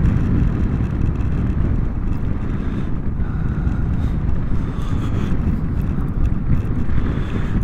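Vespa GTS scooter rolling fast down a steep hill on a warm winter day, with steady loud wind rush and road roar dominating throughout and no clear engine note standing out.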